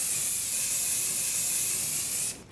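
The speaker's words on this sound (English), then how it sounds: "I just start spraying." Fudge Skyscraper hairspray sprays onto hair in one long, close, steady hiss that cuts off abruptly at the end, with no talking.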